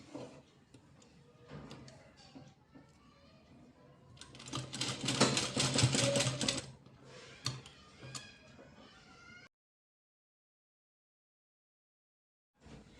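A sewing machine stitches a dori pendant onto velvet fabric, running in uneven bursts that swell loudest midway, then stops into silence before a brief final whir.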